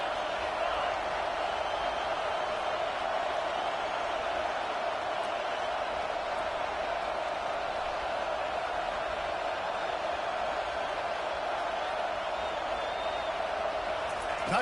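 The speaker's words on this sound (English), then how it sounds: "This crowd trying to make life miserable for this offense." A packed stadium crowd at a college football game roars steadily and loudly for the whole stretch, a dense, unbroken wall of noise with no pauses or distinct shouts standing out.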